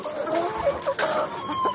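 Chickens clucking near newly hatched chicks, a close, continuous mix of soft repeated clucks and low chirps with no one talking.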